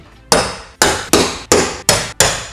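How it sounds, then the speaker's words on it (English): A hammer strikes a metal punch to mark hole centers on a Ford Transit cargo van, six loud sharp blows in a steady, slightly uneven rhythm, close and alone. "we're going to take a punch and mark the center locations for all of our holes here."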